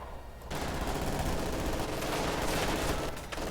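An MG-42 machine gun in Company of Heroes 2 opens up abruptly and rattles on in sustained, dense bursts for about three seconds amid battle noise.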